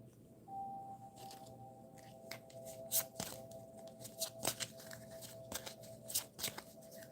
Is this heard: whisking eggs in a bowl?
no